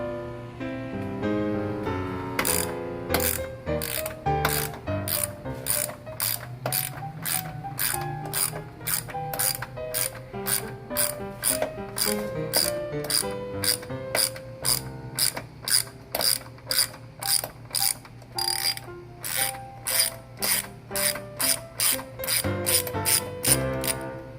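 A ratchet fitted with an adapter turns nuts on the strut tower brace of a 6th-generation Camaro SS, giving a long series of sharp, rapid clicking bursts that speed into steady, evenly spaced clicks, close up with no talking.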